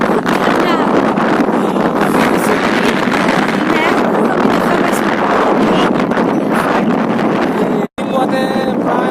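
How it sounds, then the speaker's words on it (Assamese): Strong cold wind buffets the microphone atop Nandi Hills near Bangalore, a loud, steady roar running almost unbroken, with one brief dropout near the end. "ইয়াৰ বৰকৈ বতাহ বুলিছে, ঠাণ্ডা বতাহ"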